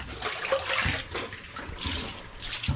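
Plenty of water splashes and pours while food gathered in the countryside, coated in sand and soil, is washed, a continuous rushing wash at moderate level with short surges.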